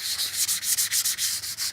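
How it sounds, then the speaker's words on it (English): Rapid back-and-forth rasping of sandpaper lightly sanding a homemade Claybord panel, about a dozen quick, even strokes, close and light. "very quickly give it a light sanding, and you can see how quickly the dust is coming off"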